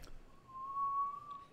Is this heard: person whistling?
yes